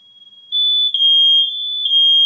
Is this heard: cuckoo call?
no